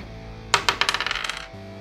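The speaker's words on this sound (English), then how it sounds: "By rolling the dice lots of times," A handful of dice are tossed and clatter across a hard surface. Sharp, close impacts come faster and softer as they settle, over a faint constant hum.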